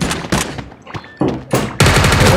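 Video game gunfire sounds in loud, close bursts of rapid shots, separated by short gaps, then builds into sustained automatic fire at the end.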